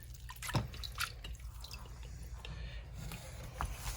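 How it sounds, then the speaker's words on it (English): Liquid resin drips off a freshly made 3D print in a series of soft, irregular wet plips over a quiet background, close by, with no speech. "And I might let that sit and drip off"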